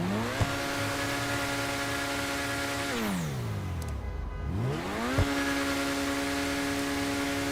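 The Progen Itali GTB, a McLaren 570S-style car in GTA 5, holds a steady high idle, then its engine pitch drops smoothly down and sweeps back up to the same level, with a brief click at the start.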